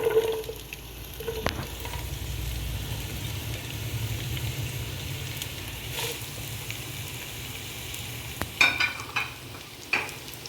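Four medium onions, finely chopped, frying in hot sunflower oil for Malabar chatti pathiri: a continuous close sizzle running throughout, with a few clicks and scrapes of stirring near the end.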